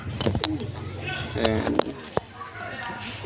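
Pigeons coo in a loft, soft repeated murmuring calls close by, with someone talking over them throughout.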